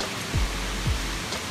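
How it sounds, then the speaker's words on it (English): Mae Ya waterfall in Doi Inthanon Park, Thailand, rushes as a steady broadband roar of falling water, close and continuous with no voices. "This, guys, is the Mae Ya waterfall."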